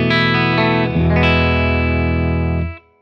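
An electric guitar on a clean tone through a Bravado amp strikes a few chords, then lets one ring out full and sustained before it's abruptly muted.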